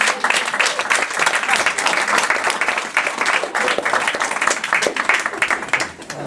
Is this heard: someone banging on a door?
no